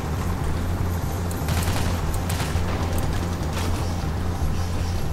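A continuous barrage of distant gunfire from snipers in Payday: The Heist: dense crackling shots over a steady low rumble, unbroken for the whole stretch.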